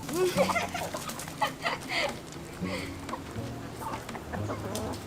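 Chickens cluck and squabble close by as they are fed fruit outdoors in Pangasinan, Philippines, with people chattering over the busy, uneven flock noise.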